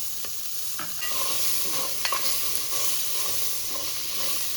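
Sliced onions and green chillies fry for chicken pulao in a steady, close hiss of sizzling oil, with a few faint scrapes of stirring.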